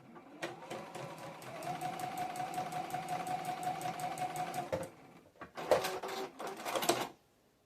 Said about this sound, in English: So I'm not putting that little tip through the sewing machine first.